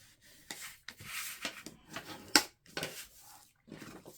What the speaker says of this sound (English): if you have a longer bone folder like this and just kind of burnish that on both sides